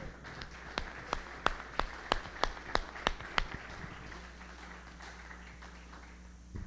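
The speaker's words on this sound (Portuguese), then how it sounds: "Quem quer aplaudir a Deus comigo por esse entendimento?" Church congregation clapping, a run of about ten distinct, evenly spaced claps that are fairly faint over a low room hum, then quiet ambience.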